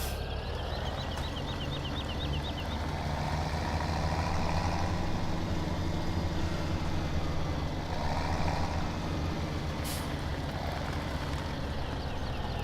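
Tractor engine in Farming Simulator 17 starting and then idling at a steady low rumble, continuous and moderately quiet with no talk.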